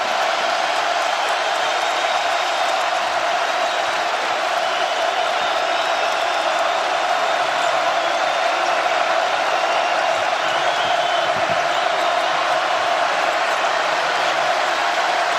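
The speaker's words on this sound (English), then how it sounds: "this Mackey Arena crowd is in this game" A basketball arena crowd at Mackey Arena, during Purdue versus Michigan, produces a dense, steady roar of cheering and noise that holds at a constant loud level throughout, with no distinct breaks.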